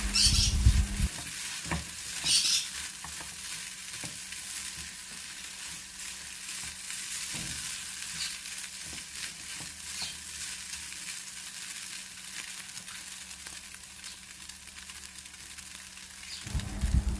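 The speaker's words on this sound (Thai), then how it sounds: "ใส่ชะอมลงไปผัดให้สลดดีแล้วก็ยกลงจากเตาได้เลยค่ะ" Cha-om (acacia) leaves stir-fried in a pan with pickled garlic, a steady close sizzle with scraping stir strokes running nearly the whole time, with no talking.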